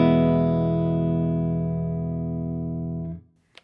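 Sustained clean electric guitar chord through a Fractal amp preset with amp, cab and reverb, in E standard tuning, ringing long and slowly decaying before cutting off, then a faint brief noise.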